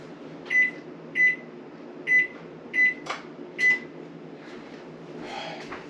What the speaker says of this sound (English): I need to go turn my oven on